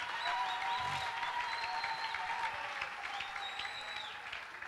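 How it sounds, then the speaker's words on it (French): Congregation applauding during a Sunday church service, a steady dense wash of clapping from many hands throughout, with faint whistles or cheers rising above it. "Applaudissons le Seigneur."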